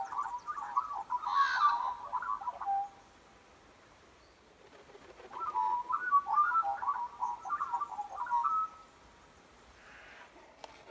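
Magpies calling in two bursts of warbling, fluting notes, each a few seconds long with a quiet gap between them, heard at moderate distance outdoors.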